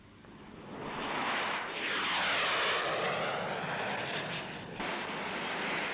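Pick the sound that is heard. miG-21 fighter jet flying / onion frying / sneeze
miG-21 fighter jet flying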